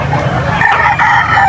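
A rooster crows loudly and close by at a pet market in Angeles, with clucking fowl and market bustle around it.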